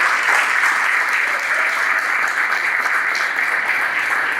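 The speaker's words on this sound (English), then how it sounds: "And my stepdad, Mr. Idris, give him a big round of applause." A crowd applauds loudly and continuously, a dense wash of clapping that holds steady without any voices standing out.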